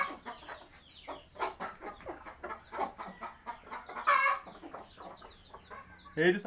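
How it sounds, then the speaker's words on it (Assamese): A hen clucks repeatedly nearby in short, rhythmic bursts, rising into a couple of louder squawks. "মুৰ্গীজনীয়ে ভয় খুৱাই দিলে দেই চিঞৰি পেলাই"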